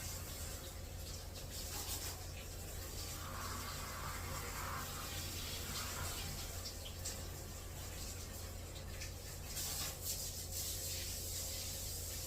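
Tap water runs continuously into a sink while a bathroom cleaning tool is rinsed off, a steady faint hiss with soft rubbing and splashing, no talking.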